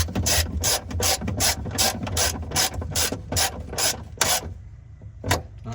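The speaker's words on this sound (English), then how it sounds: "So we're going to tighten these bolts up a little bit." A ratchet clicks in quick repeated bursts while tightening tail light bolts on a 1992 Honda Prelude, the close mechanical pawl chatter stopping near the end and leaving a quiet pause and a single last click.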